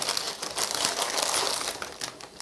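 A plastic packet of vegetables and seasonings from a Big Bon rice noodle kit, crinkled and rustled in the hands, close and continuous throughout with no talk.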